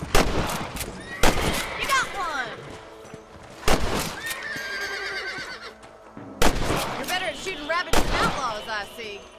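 Rifle shots ring out while hunting rabbits in the Red Dead Redemption video game, several sharp loud cracks spaced a few seconds apart with ringing tails, alongside horse whinnies and game sound effects.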